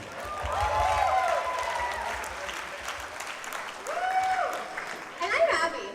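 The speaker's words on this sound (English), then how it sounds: "please, a huge round of applause for yourselves" Audience applause, moderate clapping from a crowd with a few whoops and whistles rising above it near the end.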